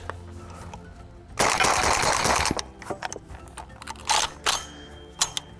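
A rifle fires a rapid burst of shots outdoors, loud and close, followed by a few separate sharp reports and mechanical clacks.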